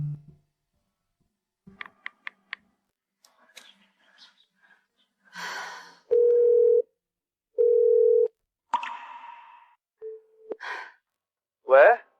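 A telephone sounds tones before a call: a few short beeps, then two long steady ringback tones and a shorter one, separated by quiet gaps, with faint brief voice sounds in between.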